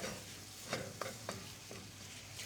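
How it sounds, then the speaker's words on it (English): Paprika stirred into a peanut butter sauce for beef kare kare in a pan, heard as a few soft spoon scrapes against a low steady sizzle, fairly faint, with no talking. "Paprika goes in. And give that a quick stir."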